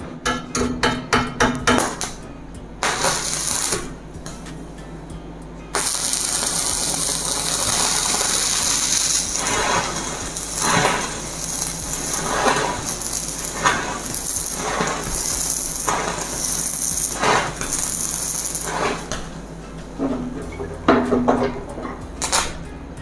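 Electrode cutting with a Shakti Technology all-in-one 400-amp welding machine using a 3.15 mm electrode: a loud, sustained crackling hiss with sharp ticking bursts at the start and toward the end, no voices.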